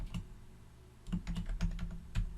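Computer keyboard keys tapped while typing C# code in Visual Studio 2022, with a single keystroke, a pause, then a quick close run of clicks and one final tap.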